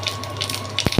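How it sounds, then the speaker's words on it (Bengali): Cloves sizzling in hot oil in a pan, a low steady hiss with faint crackles and a couple of sharper pops near the end, fairly quiet and close. "ফুটছে লবঙ্গটা"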